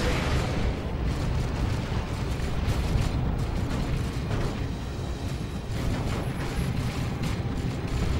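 A tank in a real-time strategy game match is destroyed, with a dense rumbling explosion and crackling debris. The blast stays loud and continuous for several seconds with no talk over it.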